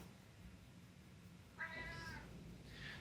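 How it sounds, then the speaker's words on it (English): A pet cat meows twice, quite close but soft, over a quiet low background hum with no talking. "You hear my kitty?"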